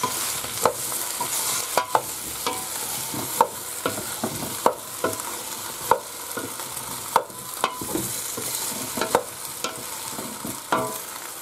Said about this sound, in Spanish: Las mezclamos bien para que cojan el sabor y las dejamos unos minutos.